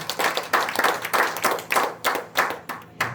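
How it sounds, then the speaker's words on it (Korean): Congregation clapping in unison in a Korean church service, a brisk run of sharp hand claps close by, roughly three per second, steady and loud with no talk over it. "우리 하나님께 영광의 박수 올려드립니다"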